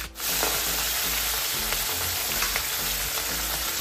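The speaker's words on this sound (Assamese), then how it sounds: "তেলখিনি আমাৰ গৰম হৈ গ'ল, মাছকেইটা ভাজি লওঁ।" Fish frying in hot oil in a wok on a gas stove, a steady close sizzle with small pops and crackles running throughout, no voices over it.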